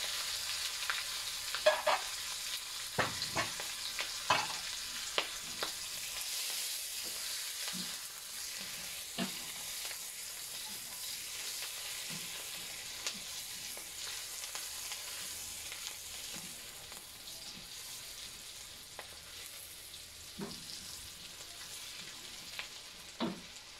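Onions and chili sizzle steadily in a hot pan for a spicy stir-fried asparagus dish with anchovies, with frequent scraping stirs and clinks of the utensil throughout and no talking.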